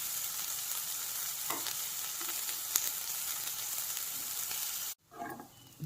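Cumin, sliced onion and green chilli frying in a pan for aloo samosa filling, a constant close sizzle with occasional stirring scrapes, broken briefly by a cut near the end before resuming.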